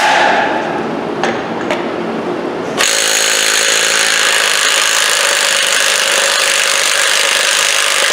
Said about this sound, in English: let's see if the old battery can get off this